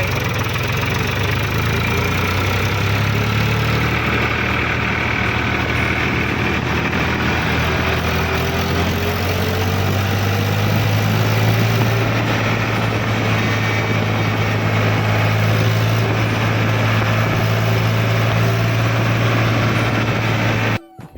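A tractor engine idles and rumbles steadily at close range, a low continuous drone with no talking, cutting off abruptly at the end.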